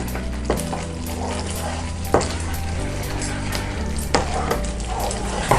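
Mango halwa with ghee and nuts stirred in a pan, with rhythmic scraping strokes over a steady sizzle of hot ghee and occasional sharper knocks against the pan, close and loud.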